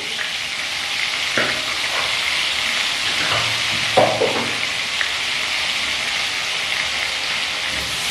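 Potato pieces sprinkled with salt and turmeric sizzle and fry steadily in a pan, a continuous close crackle with a few stirring clatters and no talk.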